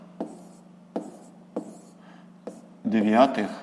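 A pen taps and scratches on paper while a math solution is written out, four short distinct strokes spaced about half a second apart in a quiet room, then a voice speaks.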